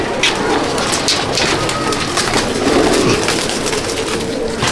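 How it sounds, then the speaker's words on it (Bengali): Malwai pigeons at a loft, soft cooing and rustling over a dense, steady hiss of background noise. "এই যে পায়রা মালওয়াই উড়েছে দেখো"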